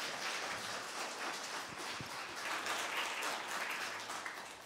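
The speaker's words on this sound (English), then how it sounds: "can we give another big round of applause to Alastair as well" Audience applause at a British Law Centre evening event, a dense, steady wash of many hands clapping that holds at an even level throughout with no voices over it.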